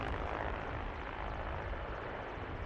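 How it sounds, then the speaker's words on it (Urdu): Mi-17 military helicopters fly past during a Pakistan Day parade, producing a loud, steady, continuous rotor and engine roar that fills the whole clip without letting up. "MI-17 Halley copters."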